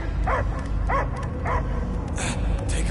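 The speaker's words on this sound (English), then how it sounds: "I hear only barking" A dog in the video game Guardians of the Galaxy barks and whimpers in four evenly spaced yelps over a steady low rumble of game ambience, with faint speech-like tones near the end.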